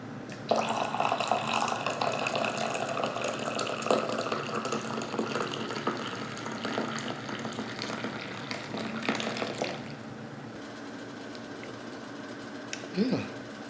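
Coffee pours steadily in a continuous splashing stream for about ten seconds, then stops, leaving quiet room tone with a brief knock near the end.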